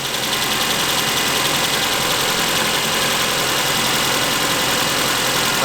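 Car engine fitted with a new fan belt runs at a steady idle, a dense, close, even drone with no squeal from the belt and no voices.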